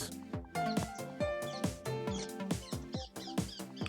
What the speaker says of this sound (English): I'm guessing you can hear the bird again.